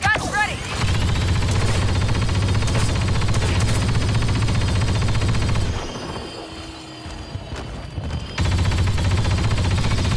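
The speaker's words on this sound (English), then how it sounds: "Sentry guns ready!" Sentry guns firing steadily in Star Wars Battlefront on Crait, a loud continuous mechanical rattle with a low whirring drone that briefly drops away before resuming at full strength.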